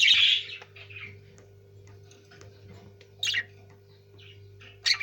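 Pet birds, including a green one and a blue male, give a few short bright chirps indoors, with a loud burst at the start and brief calls near the middle and end over a low steady hum.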